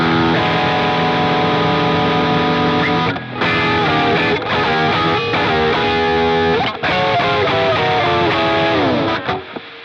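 Electric guitar runs through a Bias FX 2 double drive effect in a blues preset, with loud, saturated overdriven chords and bent notes ringing in phrases, plus a few brief gaps between them.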